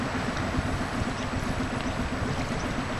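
Rushing tidal water surges steadily through the narrow Hole in the Wall passage in Desolation Sound, British Columbia, a continuous broadband wash heard close and constant, with no voices.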